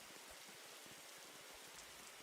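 Steady rain effect in a Roblox game, a soft, even hiss of falling drops with faint scattered patter, low in level and without any voices.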